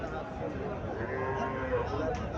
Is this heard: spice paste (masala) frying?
no